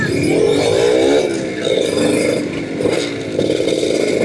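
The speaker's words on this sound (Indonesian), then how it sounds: "RX King suaranya khas banget 2 taknya" A Yamaha RX King two-stroke motorcycle engine rings out close and loud on a weekend coastal road ride, a raspy, buzzing drone that swells and dips with the throttle while the bike overtakes traffic.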